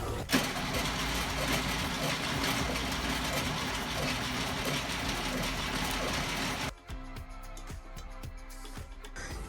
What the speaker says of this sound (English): It wants to fire up, but something's either not right with the starter or something's just not right.